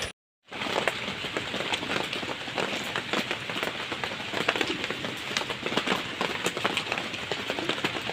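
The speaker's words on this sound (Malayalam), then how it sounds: "ജാസ്തി മഴ ഗൈസ്." Heavy rain falls steadily and loudly on surfaces nearby, a dense continuous patter that starts abruptly after a moment of silence and carries on without a break.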